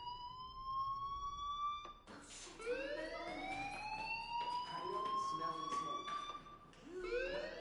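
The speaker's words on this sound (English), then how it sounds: "do you hear that fire alarm?" A school fire alarm from the video game Life is Strange wails in rising, sweeping electronic tones that repeat over and over, loud and steady throughout, with a voice speaking over part of it.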